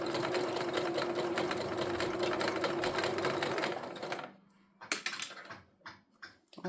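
A sewing machine runs steadily at speed while stitching a fabric tote bag, a dense rapid mechanical chatter for about four seconds before it stops, followed by a few soft clicks and handling noises.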